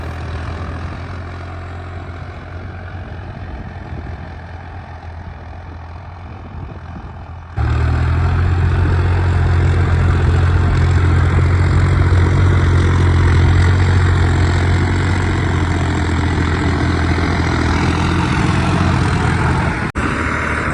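A tractor engine runs steadily while ploughing a field, a low, constant drone that grows noticeably louder and heavier about a third of the way in as the load increases, then holds level with no talk.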